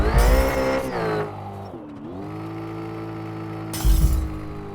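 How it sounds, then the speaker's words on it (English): Glass shattering in a car crash from the D-Hood street racing video game, a loud burst of breaking glass over steady engine drone, followed later by a second crash burst. "glass breaking, etc."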